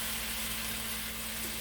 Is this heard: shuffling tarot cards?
no